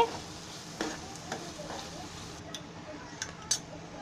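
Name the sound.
masala roasting in a kadhai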